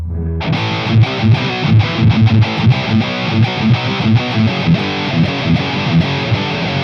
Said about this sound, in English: Let's hear what the metal zone sounds like.